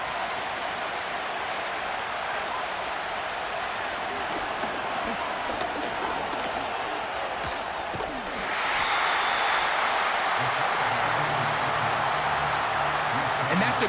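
Stadium crowd noise in a football video game, a steady loud roar that swells brighter and louder partway through as fans cheer on third down, with no voices over it.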